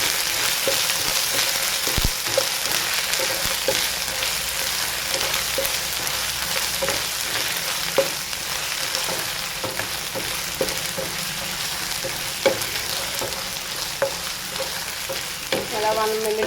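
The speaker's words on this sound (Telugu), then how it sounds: "ఇప్పుడు ఇందులోకి 1 స్పూన్ అల్లం వెల్లుల్లి పేస్ట్ యాడ్ చేసుకోండి. ఇది కూడా బాగా ఫ్రై చేసుకోండి." Ginger garlic paste frying with onions in a pan, a constant loud sizzle with light intermittent taps and scrapes of a spoon stirring, close, no talk.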